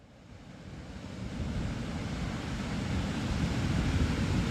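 Ocean surf rolls in at Moonstone Beach as a broad, continuous wash of wave noise that slowly builds in loudness, with no voices.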